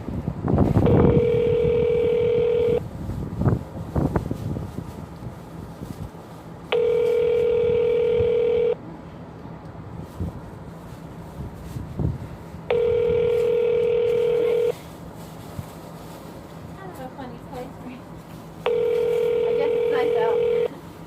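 Steady electronic telephone tones repeat in regular blocks on a line while a call is transferred, clear and fairly loud, with bursts of background noise between them.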